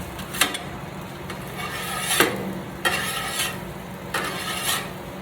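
Roast beef and cheese quesadillas on a Blackstone griddle give a low, steady sizzle broken by several sharp spatula scrapes and bursts of hiss as they are flipped one after another.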